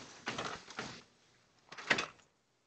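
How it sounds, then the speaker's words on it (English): A garage door opener closes a garage door after an RFID scan, giving two short rumbling bursts of movement and a clunk near the end, close by with no talking. "You can scan again to stop the door and scan to close."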